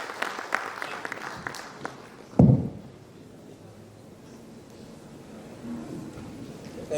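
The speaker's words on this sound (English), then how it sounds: "let's give a huge round of applause once again" Conference audience in Vadodara applauding: scattered claps that thin out over the first two seconds, a single heavy thump, then a quiet room with low murmur.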